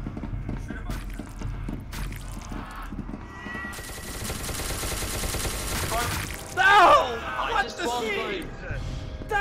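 Automatic gunfire in SCP: Secret Laboratory, a rapid burst of shots in the middle with scattered game noises around it and excited voices shouting over the action.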